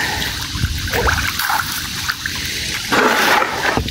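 Tilapia splash and churn at the surface of a farm pond while feeding, a continuous close sloshing and trickling of water with bursts of heavier splashing.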